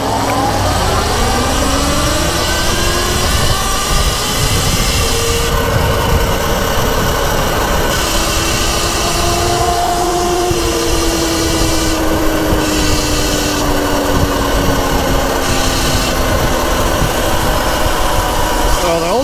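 Surron Ultra and Velimotor VMX12 electric bikes pull away from the line together with a loud, close whine of motors rising in pitch over steady wind and road noise, with people talking briefly.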